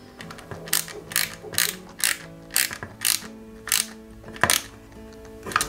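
Small PS05 screw being driven into a 1/8 scale Bugatti Veyron 16.4 Super Sport model kit, heard as a close, regular series of crisp ratcheting clicks from the screwdriver, about two per second.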